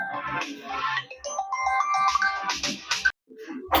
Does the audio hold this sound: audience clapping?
no